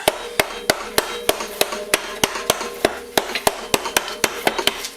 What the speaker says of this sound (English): I'm going to have to tap the secondary with a hammer a little bit